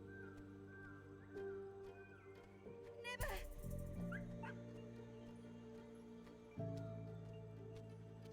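A dog whimpering and yipping in the Neva video game, faint high cries and yelps over a quiet musical drone, with a sudden burst of noise midway and a person talking.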